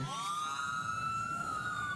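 A police car siren wails steadily at moderate distance, a continuous rising and falling tone over light background noise, with no talking.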